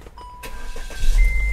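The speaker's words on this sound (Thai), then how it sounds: "เดี๋ยวสตาร์ทให้ฟังเสียงเครื่องยนต์ด้วย" A 1,451 cc turbo petrol Chevrolet Captiva engine cranks and catches, then settles into a steady low rumble that grows louder toward the end, with a faint high whine.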